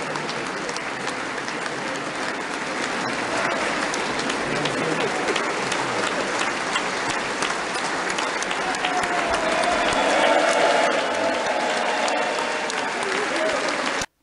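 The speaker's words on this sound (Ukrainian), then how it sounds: "президент України виступив перед Конгресом, де його привітали стоячи з оплесками" Sustained standing applause from a large audience fills the US Congress hall for Ukraine's president, dense steady clapping that swells slightly toward the end before cutting off.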